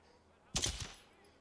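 A single sharp gunshot in Ghost Recon Breakpoint fired at a sniper, a brief loud crack with a short echoing tail, standing alone against a quiet background.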